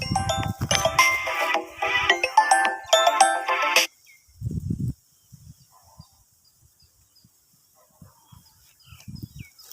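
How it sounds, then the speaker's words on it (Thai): A mobile phone ringtone for an incoming call sounds at a rural land plot, a busy electronic melody playing for a few seconds and then cutting off, followed by faint outdoor background noise. "พอดีมีสายเข้านะครับ"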